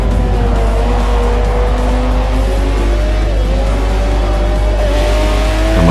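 A race car in Forza 4 lapping Silverstone during an R1 Eurotour event, with a loud, continuous engine whine that rises and falls in pitch through the gears and tires squealing through the corners.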